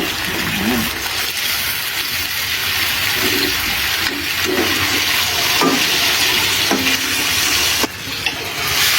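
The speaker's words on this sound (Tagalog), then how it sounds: "haluin ng haluin para mas maluto ng maayos" Squid adobo with kangkong sizzles steadily in a pan as it is stirred, a constant loud frying hiss with occasional scraping clinks of the utensil and brief voices in the background.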